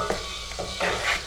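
Sugar syrup boiling in a pan while being stirred, giving a steady close bubbling hiss with a few scraping stirs of a spoon against the pan, no voices.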